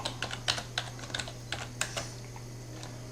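Keys on a computer keyboard are tapped in short, uneven bursts of crisp clicks close by, over a low steady electrical hum.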